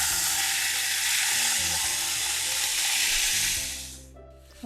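Thick-cut bacon frying in a skillet gives a steady, loud, close sizzle and crackle that holds for several seconds before fading away near the end.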